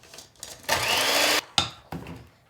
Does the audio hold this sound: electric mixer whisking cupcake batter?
yes